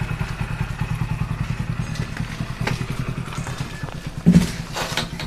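A motorcycle engine idles with a fast, even low thumping beat, close and steady, with a brief louder knock near the end; the bike is set to carry a load of painting supplies.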